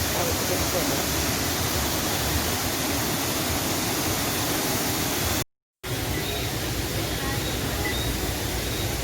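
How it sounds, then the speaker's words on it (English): Steady, loud rushing roar of Annandale Waterfall in Grenada, a continuous broadband wash of falling water that fills the whole stretch, cut by a brief dropout midway. "You can see and see the waterfall from a little bit further."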